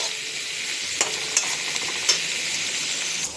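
Onions sizzle and fry in a pan for a spicy mola fish chutney, a steady hiss with a few sharp clinks of a spatula stirring against the pan.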